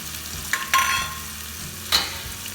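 Onion stirred into browned mustard and cumin seeds in hot oil gives a soft, low sizzle broken by three sharp scraping strokes, close by and with no talking.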